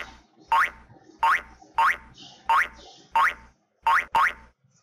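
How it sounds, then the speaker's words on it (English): Cartoon boink sound effect loop for a bouncing ball: seven springy, rising boings repeat in a steady rhythm, each short and bright, close and clear with brief silences between, no voices. "when I import it, you will be able to hear the boink"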